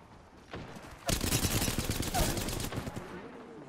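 Rapid bursts of automatic gunfire in the Apex Legends battle royale game erupt after a quiet second and sustain as a dense, loud volley, with a faint voice underneath.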